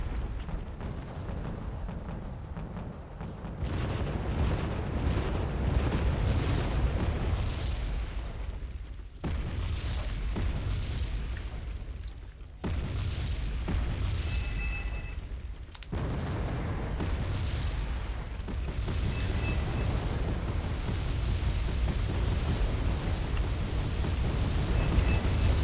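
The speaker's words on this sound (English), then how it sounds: "that's exactly when the F-111 dropped the bomb" A nuclear bomb dropped by an F-111 bomber in the war strategy game Wargame: Red Dragon, heard as a long, loud, sustained rumbling roar of explosion and blast with deep low-end booms rolling on continuously.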